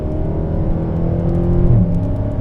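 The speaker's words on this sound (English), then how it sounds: "I like this motor though. It has a nice character to it. It likes to rev." A Dodge Charger Scat Pack engine revs with a steady, loud, throaty drone, heard from close inside the car without a break.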